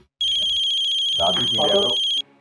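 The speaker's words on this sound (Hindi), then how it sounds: "भैया का फोन है।" A phone ringtone plays loudly and steadily for about two seconds as a bright repeating electronic tone in a household scene from a Hindi TV serial, with people talking underneath it.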